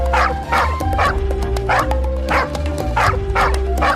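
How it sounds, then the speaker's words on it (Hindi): A cartoon dog barks loudly and rapidly, a string of sharp yappy barks about twice a second, close and dominant over a busy background soundtrack. "भैया जल्दी जल्दी भागो, वो कुत्ता तो हमारे पीछे ही आ रहा है।"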